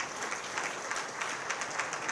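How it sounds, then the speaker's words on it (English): A conference audience applauds after a Chief Minister's keynote at a maritime board event: dense, even clapping, soft and somewhat distant, lasting throughout. "A huge round of applause once again, please, ladies and gentlemen."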